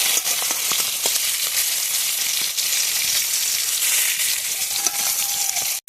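Chital fish frying in hot oil, a loud, dense and continuous sizzle that holds steady for several seconds, with a few spatter pops and a brief scrape near the end.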